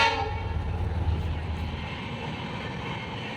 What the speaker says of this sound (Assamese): এইয়া ট্ৰেইনৰ ৰাতিটো ওচৰত থকাৰ কাৰণে গৈছে